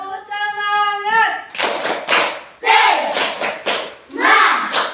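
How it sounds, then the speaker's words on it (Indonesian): Schoolchildren in a classroom perform a 'tepuk semangat' spirit clap, sharp bursts of group clapping in a rhythmic pattern following a sung or chanted opening, loud and close. "Ya, tepuk semangat."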